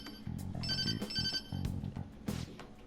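A phone rings during a call in the video game Persona 5 Royal, sounding as a bright, repeating electronic ringtone melody in short bursts, with no voices over it.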